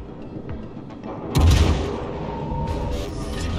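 Naval gunfire in World of Warships, during a clan battle with the cruiser Des Moines: a single deep, heavy boom lands partway through, then rumbles and decays under ongoing battle noise.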